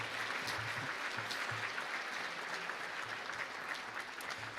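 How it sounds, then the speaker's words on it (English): An audience at a student Emmy awards ceremony gives a sustained round of applause for a university, a broad, even wash of clapping from a sizeable crowd, fairly faint and continuous. "Let's give Augsburg University and Jenny a round of applause."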